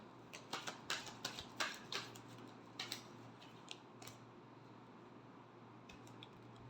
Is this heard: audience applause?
no